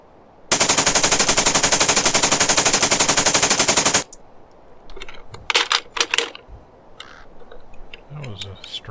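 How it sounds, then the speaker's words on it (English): Sustained full-auto gunfire from an RPD in the Black Bag video game, a rapid even burst of shots lasting a few seconds that cuts off abruptly, followed by scattered clicks and quieter game sounds. "Why'd the full auto sound effect cut out?"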